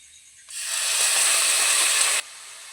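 About a tea glass of water hits a hot pan of potato and drumstick-leaf curry and sizzles in a sudden loud hiss that holds for under two seconds, then cuts off sharply.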